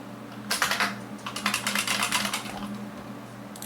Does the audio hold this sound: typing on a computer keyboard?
yes